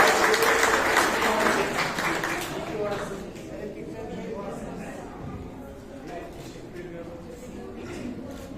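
Audience applause at a certificate ceremony for a summer science, engineering and technology camp, loud and dense at first, then thinning into scattered clapping under crowd chatter and voices.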